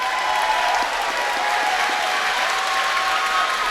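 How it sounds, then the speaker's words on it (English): A fight-night crowd applauds two fighters at a Three River Throwdown event, steady loud clapping and crowd noise sustained throughout with a faint whistle-like tone running over it. "a round of applause for these two fighters"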